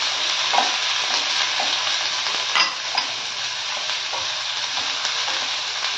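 Capsicum paneer samosa filling frying in a pan gives a loud, steady sizzle throughout, with occasional soft stirring scrapes close by and no talk.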